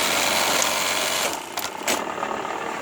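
A Juki LBH 781 buttonhole sewing machine runs with a steady, fast high-pitched whirring drone, then a few sharp blade-like chops and bursts as it cycles, close and clear with no talking.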